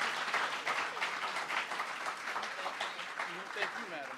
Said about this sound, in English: won't you give her a round of applause as she comes in and takes her seat